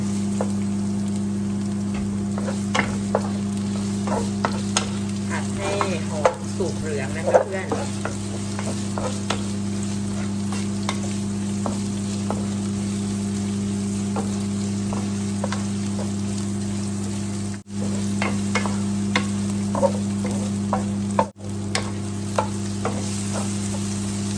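Shallots and onion sizzle steadily in a hot pan with frequent scraping and stirring clatter, a constant frying hiss underneath a low hum.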